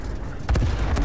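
Explosions in World of Tanks: a low rumbling bed breaks into a sudden loud boom midway, followed by a sharp second burst near the end.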